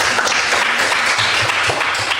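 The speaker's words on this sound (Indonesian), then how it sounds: "Tepuk tangan semuanya." A class applauds together, close and fairly loud, with continuous brisk clapping from many hands that stays steady throughout.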